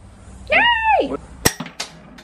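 A hardened screw snaps with a sharp crack and flies off, followed by a few quick clinks as it lands, after a short spoken exclamation.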